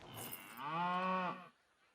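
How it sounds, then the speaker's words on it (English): Milkshake stall in the Planet Coaster video game plays a cow-like moo, one drawn-out lowing call rising then ending abruptly, fairly faint and alone without any talk. "Oh, milkshake. I was like, why did this sound like a cow?"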